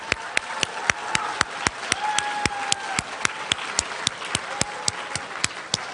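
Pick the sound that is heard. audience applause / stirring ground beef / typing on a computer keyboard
audience applause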